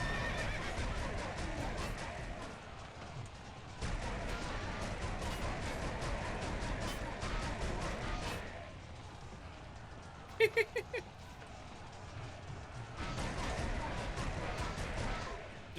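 Cavalry horses charging in Kingdom Under Fire: The Crusaders, a continuous rumble of galloping hooves with loud whinnies and neighs breaking through, battle noise surging and dipping, and a voice talking over part of it.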